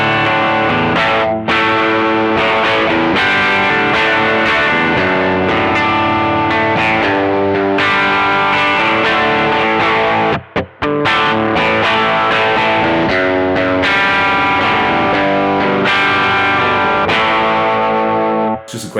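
Overdriven electric guitar through a drive preset on a NUX Cerberus multi-effects pedal, playing a loud, sustained crunchy riff with brief gaps near the middle and end.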